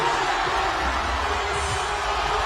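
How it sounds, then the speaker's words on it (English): A large arena crowd at the CrossFit Games roars and cheers steadily as athletes battle to the finish, a dense, continuous wash of voices that stays loud throughout. "the crowd comes to its feet to watch this showdown"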